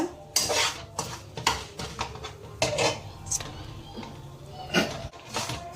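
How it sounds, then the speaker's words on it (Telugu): Semolina being dry-roasted in a pan for sweet laddu, with repeated clattering scrapes of a spoon against the metal pan in an uneven rhythm, close and fairly loud, with no talking. "రవ్వ బాగా మనము ఎర్రగా గోల్డెన్ బ్రౌన్ అయ్యేంత వరకు ఇట్లా బాగా వేయించుకుందాము"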